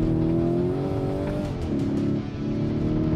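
A 2023 Lamborghini Urus Performante in rally mode powers up on a dirt track with its tail sliding out, its engine droning loud and close, rising in pitch with a brief dip and surge.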